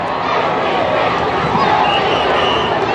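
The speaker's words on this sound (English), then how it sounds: "They just in unison just start yelling things and getting an MVP chant" A large outdoor crowd at the 2018 Golden State Warriors championship celebration yells together in a loud, unbroken roar, an MVP chant for Steph Curry rising and swelling in the wash of voices.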